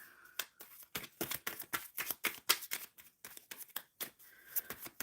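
Tarot cards shuffled by hand, a quick irregular run of crisp riffling flicks and slaps, close and fairly quiet, with no voice over it.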